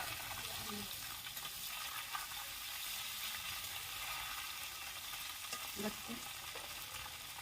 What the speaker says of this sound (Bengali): এই যে আমার মাছটা ভাজা হয়ে গেছে